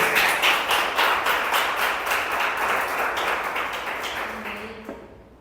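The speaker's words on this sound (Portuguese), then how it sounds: "Dê um forte aplauso ao Senhor por isso." A church congregation claps together in a loud, steady burst of many hands that slowly fades away, ending with a brief low tone and then quiet.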